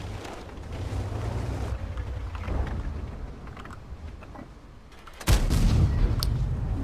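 A single sharp tank cannon blast from the World of Tanks video game bursts out near the end, loud and sudden, over a constant rumbling engine and background bed.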